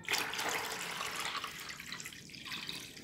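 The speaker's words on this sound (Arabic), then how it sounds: "وهبتدي ازود كمان شويه ميه" Plain water pours steadily into a homemade plant fertilizer solution in a continuous splashing stream, close by, with no talking.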